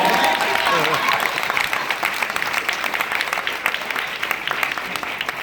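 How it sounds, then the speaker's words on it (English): Audience applause at a keynote address during an annual fellows meeting, a sustained burst of dense hand clapping from a crowd that stays fairly loud and steady before gradually thinning out. "Let's give me a hand clap for that one."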